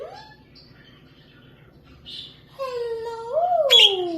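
A pet bird gives soft chirps, then rising squeaky whistles and a sharp high call that grows louder toward the end, close by and alone against a quiet room.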